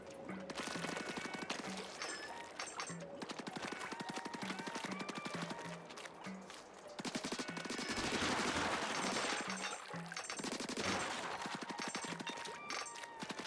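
Weapon fire from Splatoon Raiders, a steady stream of quick rhythmic shots over game music, continuing for several seconds with a short break and then resuming, fairly quiet overall.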